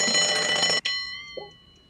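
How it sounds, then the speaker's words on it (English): An alarm bell rings loudly from a movie scene, a sustained metallic ring that cuts off abruptly, then lingers faintly with a brief tone after. "So this alarm is going to go off, and this is the first part after Rocky in the movie."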